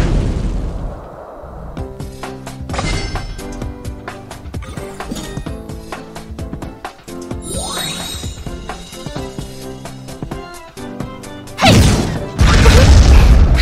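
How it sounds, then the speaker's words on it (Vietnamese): Gunfire and explosions in the mobile shooter game Gunpow, with steady rapid impact hits and clinking effects over game music, then a loud booming blast near the end. "Rồi mình tiếp tục bắn nha."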